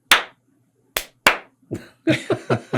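Hand claps imitating a film slate clap of three slates closing together: a few sharp, isolated claps separated by silence, then a quicker ragged cluster of claps with people laughing.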